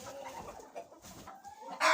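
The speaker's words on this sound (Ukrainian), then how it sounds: "А ось квочка як сиділа, так і сидить." Hens cluck and murmur nearby in a quiet indoor farm shed in winter, including a broody hen, with a few soft overlapping calls and a sudden rustle at the end.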